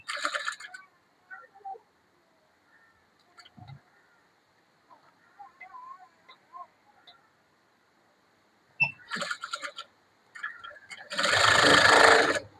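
A sewing machine runs along the very edge of a blouse seam in short bursts of stitching, with a longer loud run at the end and quiet gaps between.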